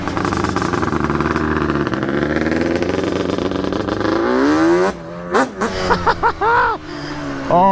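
A Yamaha Banshee motorcycle engine revs loudly up close, its pitch climbing steadily, then breaks into a series of short sharp blips and revs before settling, without any talk over it.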